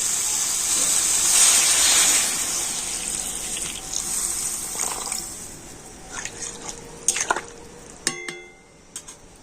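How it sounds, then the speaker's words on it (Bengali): Water is poured into a vegetable curry cooking with turmeric and ginger, a rushing gush at first that thins into trickles and a few clinks and drips, close by with no voices. "এবার আমি দিয়ে দেবো জল"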